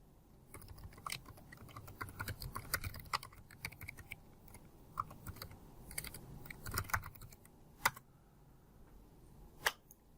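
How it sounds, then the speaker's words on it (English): A computer keyboard clatters with fast, irregular keystrokes as a URL is typed, with a few harder taps near the end, fairly quiet and close with no talking. "verify that that's working by typing our URL in again"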